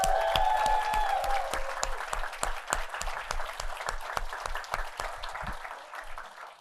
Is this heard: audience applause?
yes